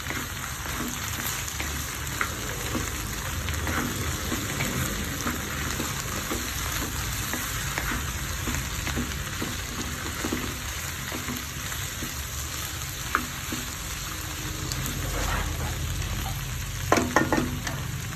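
Okra sautéing in a pan for a Kerala vendakka theeyal makes a loud, continuous sizzle and frying crackle, with repeated stirring scrapes and a few sharper clatters near the end.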